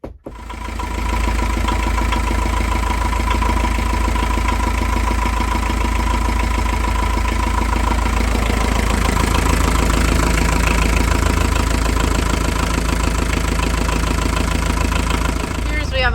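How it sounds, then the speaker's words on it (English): A boat engine catches and settles into a steady idle, running loud and even close by from start to finish with a low rumbling drone. "We have all the essentials of a working engine, at least temporarily."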